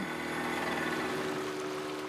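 A boat motor drones on continuously on the Sepik River, a low mechanical hum with broadband rumble at constant speed.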